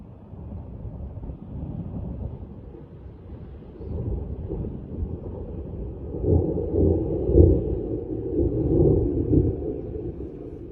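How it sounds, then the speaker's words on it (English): Thundersnow rolls over Buffalo during a morning snowstorm as low, muffled rumbling that swells and fades over several seconds, mixed with wind noise. "This is actual footage of Thundersnow happening this morning in Buffalo."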